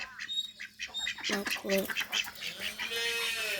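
Ducks quack in short bursts close by, with people talking over them and farmyard background noise.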